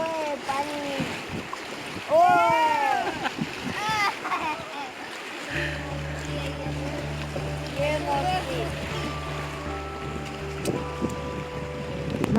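River rafting on the Jia Bhoroli river, with water rushing and wind buffeting the microphone throughout. Voices call out over it, and a steady low motor hum joins midway.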